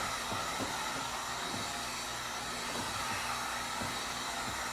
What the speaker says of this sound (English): Again, we're using a heat gun.